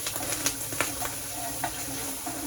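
Pork for a bolognese sizzles and fries in a pan, a faint steady crackle with small scraping clicks from stirring scattered through it.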